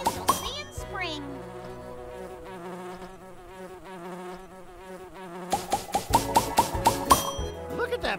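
A cartoon bee buzzes in the Nature Cat Pollinator Pathway video game, a sustained drone under game music, followed by a quick run of bright chiming hits near the end; a voice speaks briefly.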